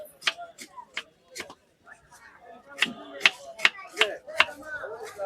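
A street vendor in Chandpur market cuts guava with a knife, giving a series of sharp close chopping knocks in an irregular rhythm, some quick bursts, alongside someone talking.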